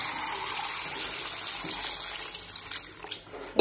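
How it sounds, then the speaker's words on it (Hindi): Clean water pours from a tap or vessel into a bowl of amla being washed, a steady close splashing rush with a few clinks and knocks near the end. "अब इसमें साफ पानी डाल दीजिए"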